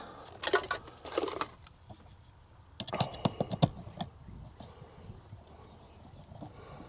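Two larger Phillips screws started into an outdoor electric box: close scraping and rubbing, then a run of sharp ticking clicks as a screwdriver turns, fading into quieter handling noise.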